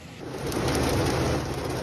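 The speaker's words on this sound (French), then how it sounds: "Des pluies très abondantes à Loulay en Charente-Maritime. Là aussi, l'orage reste peu de temps, mais il est très intense." Heavy rain pours during a brief but intense thunderstorm in Loulay, Charente-Maritime, France, a dense, loud, steady roar with a low rumble beneath it.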